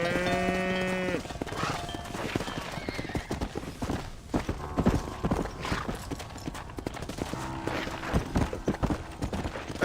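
Horse hooves clip-clop across ranch ground in a western video game, a close, uneven run of hoofbeats with a horse whinnying and livestock bleating around it.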